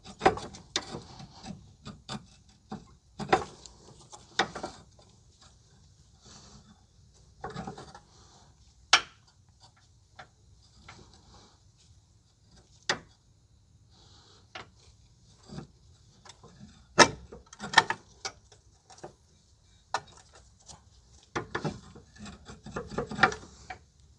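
Wrench working a 17 mm strut bolt on a 2011 Kia Forte 5 SX during lower control arm replacement: scattered sharp metallic clicks and knocks at irregular intervals, with rubbing and scraping between them, fairly close and no talk.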